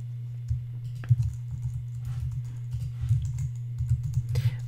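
Test data being typed into a web form on a computer keyboard: close, quiet, irregular keystroke clicks in short bursts over a low steady electrical hum.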